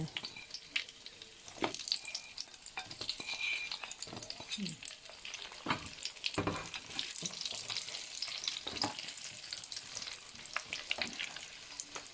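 Dried sweet fish sizzling and frying in hot oil, with steady crackling and occasional stirring scrapes throughout, close and moderately loud.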